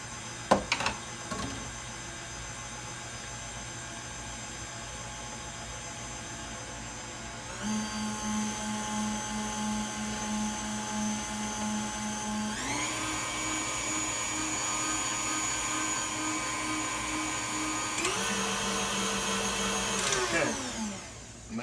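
An electric mixer whirs through pineapple pound cake batter, a steady motor whine that steps up in speed several times before cutting off, close and fairly loud with no talk.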